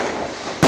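A firecracker bursts right outside a balcony door on New Year's Eve, one sudden loud crack at the very end after a steady wash of distant fireworks noise.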